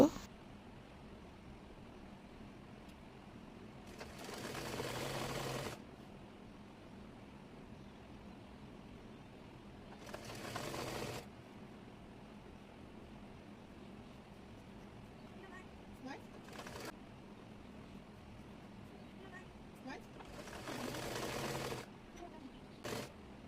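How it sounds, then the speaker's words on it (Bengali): A sewing machine stitches folded hijab fabric in several separate runs of a few seconds each, over a steady low background hum. "কাপড়টি মুড়িয়ে সেলাই দিয়ে নেব"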